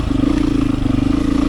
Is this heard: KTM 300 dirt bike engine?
yes